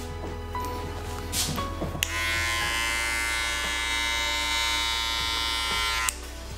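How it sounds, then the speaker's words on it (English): Electric hair clippers buzz steadily in a clipper-over-comb pass during a men's slicked-back taper fade on long hair, switching on after a couple of seconds of soft handling noises and running loud and close for about four seconds. "Now I'm using just clipper overcomb."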